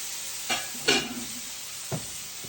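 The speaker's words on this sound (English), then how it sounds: "I started searing these scallops" Scallops searing in a hot skillet make a soft, steady sizzle with a few brief clatters and crackles, close and fairly quiet.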